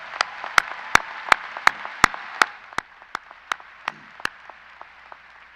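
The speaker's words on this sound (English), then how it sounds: "Can we give them a round of applause for a great job so far?" Small applause at a high school class of 2022 commencement ceremony, a dozen or so distinct claps standing out over a steady crowd wash that thins and fades toward the end.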